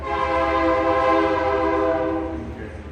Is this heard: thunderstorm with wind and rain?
no